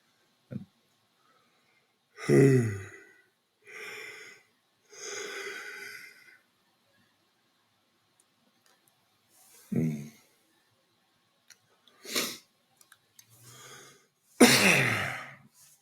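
Several separate coughs and throat-clearing sounds with quiet gaps between them, close by, some sharp and raspy, ending in a heavier cough.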